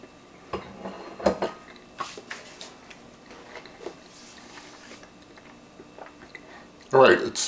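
Someone chews a slice of light spelt sourdough bread, with soft, close bites and chewing noises in irregular bursts and a louder clatter near the end, with no voices.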